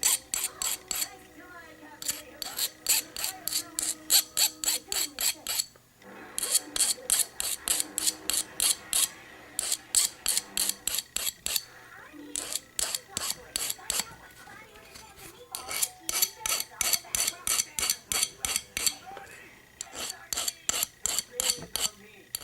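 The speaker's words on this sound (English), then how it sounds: "spin the coat hanger while you're filing" A metal file rasps against a wire coat hanger as it is spun to sharpen the end to a point, giving fast repeated scraping strokes in bursts with short pauses between them, loud and close.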